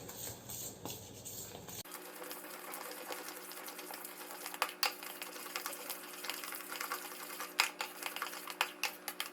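Banana pancake batter being whisked in a bowl to remove lumps, a steady close scraping and tapping of utensil against the bowl that keeps up throughout, with a few sharper knocks toward the end.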